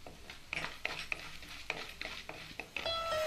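Chana dal and broken dried red chillies sizzling in hot oil for a drumstick leaf poriyal, a steady hiss broken by repeated scraping stirs of a spoon against the pan, close and alone.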